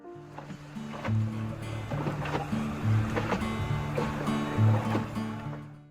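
Gondola gliding through the small canals of Venice, soft water lapping and sloshing against the hull with low tonal hum beneath, gentle swells recurring every couple of seconds, quiet and close without talk.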